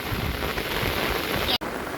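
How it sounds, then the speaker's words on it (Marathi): Heavy monsoon rain pours steadily in Vasai-Virar, a dense continuous hiss with brief wind buffeting at the microphone and a sudden short dropout near the end. "आज वसई विरारमध्ये एकदम जबरदस्त पाऊस आहे"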